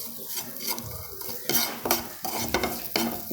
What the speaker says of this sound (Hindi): ये मसाला भी तड़का लगाना है हमें